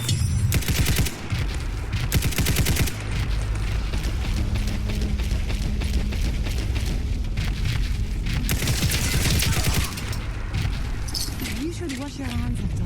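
Video game gunfire in rapid, loud automatic bursts and clustered shots, close and dense at the start and in later stretches, mixed with game sounds and a voice talking over parts of it.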